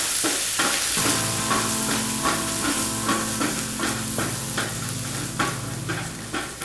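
Diced ham, garlic, cumin and paprika sauté in a hot pan: a loud, continuous sizzle broken by repeated scraping stirs from a utensil, close up and with no voices.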